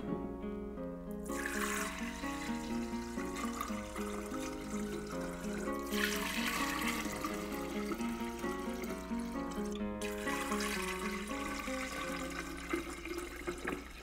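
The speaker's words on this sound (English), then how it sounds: "And then we're going to mix it more by pouring it back and forth." Homemade lemonade mixture is poured back and forth between containers, making three rushing, splashing pours over a steady bed of melodic background music, with no one talking.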